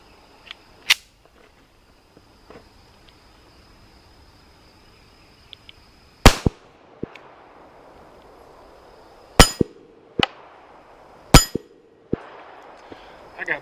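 Several sharp shots from a SCCY CPX-3 .380 pistol fired at a steel target outdoors in spring, spaced irregularly with bright metallic rings after some, against a quiet background with faint insect chirping.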